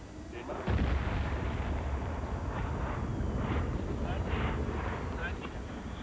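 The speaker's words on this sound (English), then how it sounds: "A news cameraman's car is rocked by one of the explosions at the plant." A deep, sustained rumbling roar of explosions at a fireworks plant with wind-buffeted distortion, continuous and loud throughout after a sudden onset.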